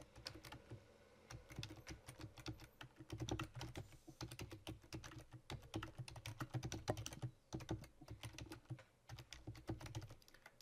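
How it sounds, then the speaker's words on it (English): Rapid, steady keystrokes clatter on a computer keyboard as a chat message is typed, with brief pauses between bursts of clicks, close and fairly quiet. "just click on the chat box and type in your message"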